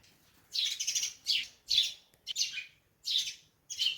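Bright, rapid chirping from sparrows in a village in Uttarakhand comes in repeated bursts separated by short pauses, fairly close and clear against a quiet background.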